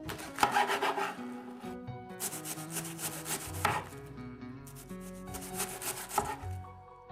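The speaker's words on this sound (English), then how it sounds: "After chopping both cabbages" A knife shreds cabbage on a cutting board in repeated bursts of scraping, rasping strokes separated by short pauses, close and clear with no talking.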